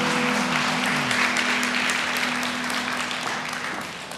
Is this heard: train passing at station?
no